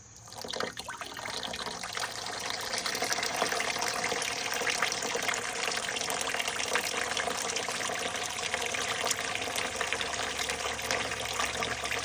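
Liquid gushes steadily from an opened ball valve on a kettle into grape mash for a grape brandy, a continuous splashing flow that starts with a brief clunk and stays moderately loud.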